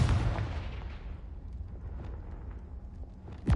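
A Confringo spell blast in the fantasy game Hogwarts Legacy: a loud booming explosion that decays into a rumbling tail, followed by another sharp burst at the end.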